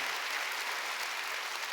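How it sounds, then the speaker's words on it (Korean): A church congregation at a Wednesday worship service applauds, giving a short, even wash of many hands clapping at moderate distance with no voices over it. "박수 치세요"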